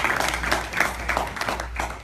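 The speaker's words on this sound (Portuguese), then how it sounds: "Pode aplaudir ao Senhor por isso." A church congregation claps, with a handful of distinct, loosely rhythmic claps over a steady low hum, fairly close and moderately loud, with no one talking over it.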